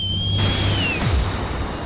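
A shrill, sustained whistle sounds loud and close, holding a steady high pitch before sliding down and cutting off about halfway, with a low rumble beneath.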